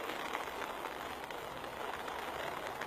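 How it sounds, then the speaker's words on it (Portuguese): Heavy torrential rain in a Brazilian town street, a dense steady hiss of downpour and runoff that stays constant and moderately loud throughout, with no speech. "Muita chuva."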